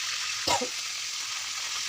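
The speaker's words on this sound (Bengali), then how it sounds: "এটা হালকা করে বেশি মুরগি ভেজে নিচ্ছি" Chicken pieces fry in a pan for a roast, a steady close sizzle with a short clatter of stirring in the middle, and no speech is heard.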